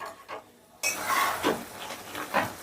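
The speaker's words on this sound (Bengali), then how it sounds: "চিকেনটা মিনিট 2 মতন একটু নাড়াচাড়া করে নিয়ে দিয়ে দিচ্ছি কর্নফ্লাওয়ার" Chilli chicken being stirred in a pan, with a spoon scraping and clinking against the metal in a few irregular strokes under a faint simmering sizzle, close and moderately loud.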